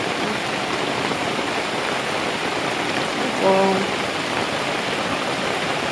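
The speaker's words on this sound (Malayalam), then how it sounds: "മുകളിൽ നിന്ന് വീണ വെള്ളമാണത്" Steady rain pours down throughout, a dense hiss of water falling from above, with a brief spoken word partway through.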